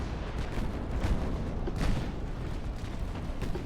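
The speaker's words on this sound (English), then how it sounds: "Oh, we actually hit them with the torpedoes?" Torpedo strikes on warships in the naval strategy game Ultimate Admiral Dreadnoughts, heard as a dense, rumbling wash of dull booms and crackling blasts rolling on without a break, with a few heavier thuds standing out.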